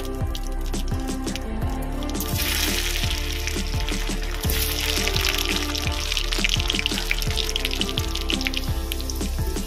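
Potatoes hitting hot oil for a Bengali prawn and taro dish, giving a loud, dense crackling sizzle that swells after about two seconds and keeps popping steadily until the end, with no voices.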